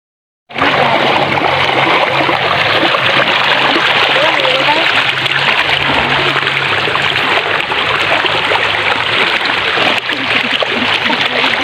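River water rushes and splashes steadily and loudly at close range, a dense continuous wash at a riverside spot in Tala, with no voices over it.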